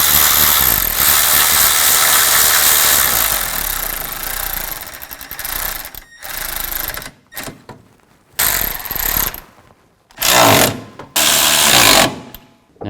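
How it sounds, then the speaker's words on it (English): Power tool whirring in bursts while bolts are tightened down on a 2000-2006 Chevy Tahoe hood latch, a long steady run followed by several short spurts separated by silence, close and loud. "And tighten down the bolts."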